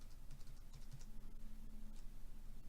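Typing on a computer keyboard, a short run of quiet, close key clicks in uneven bursts over a faint steady hum.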